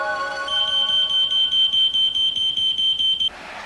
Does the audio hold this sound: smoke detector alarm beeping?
yes